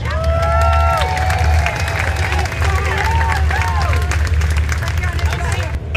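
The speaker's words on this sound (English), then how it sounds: "Please give them a round of applause." A crowd at an outdoor military special operations capabilities demonstration claps and cheers under a steady low engine rumble, with whistles and babble mixed in.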